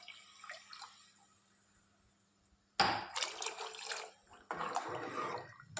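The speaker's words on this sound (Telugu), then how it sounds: "ఇక్కడ నేను 4 గ్లాసుల వాటర్ వేసుకుంటున్నానండి ఈ గ్లాస్ కొలతతో" Water poured from a measuring glass onto rice in a pot for pulao, two separate splashing pours after a quiet start, each a loud burbling gush lasting about a second or more.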